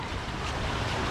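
River water flowing at an amusement park, a soft continuous rushing wash with wind noise on the microphone, faint and steady with no talking.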